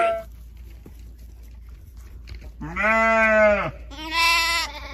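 Sheep at a molasses tub give two loud, close bleats in a row, the second higher and more strained, over quiet outdoor background hum.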